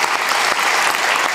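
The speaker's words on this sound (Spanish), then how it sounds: "Dar un fuerte aplauso a Dios." Brief burst of loud, dense applause from a church congregation praising God, steady and full throughout with no voices standing out.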